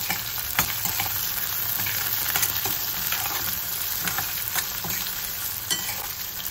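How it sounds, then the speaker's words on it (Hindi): Onion, curry leaves and green chilli frying in oil in a pan, a steady close, loud sizzle with scattered sharp crackles and occasional spoon scrapes, continuous throughout without talk. "अब इसको अच्छे से फ्राई करना है जब तक कि प्याज एकदम से ब्राउन ना हो जाए"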